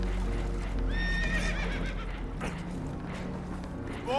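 Spooked horses in Red Dead Redemption 2 let out a loud whinny with a falling, wavering pitch, a second neigh starting at the end, over rumbling boat and water noise with clip-clop sounds.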